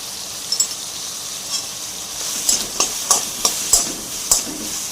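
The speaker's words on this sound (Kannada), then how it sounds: "ಇದು ಸಾಫ್ಟ್ ಆಗೋ ತನಕ ಎಣ್ಣೆಯಲ್ಲಿ ಬೇಯಿಸಬೇಕು." Capsicum fries in oil in a pan for a paneer capsicum curry, a steady sizzle broken by a series of short stirring clinks and scrapes.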